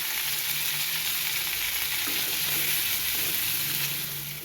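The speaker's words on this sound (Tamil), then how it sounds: "இந்த தக்காளியும் சேர்த்து வதக்கிக்கிறோம்." Tomatoes sautéing with salt in a pan make a dense, even, close sizzling hiss that goes on throughout, with soft stirring underneath and no speech.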